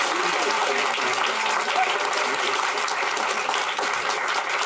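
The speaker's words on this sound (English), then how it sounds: "Let's give them a round of applause." An audience applauds two musicians after a performance with steady, dense clapping that holds level throughout, moderately loud and fairly even, with no voices standing out.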